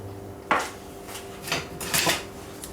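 A utensil stirs sugar and water in a pan, giving a few sharp scrapes and clinks, close and separate, over a quiet background.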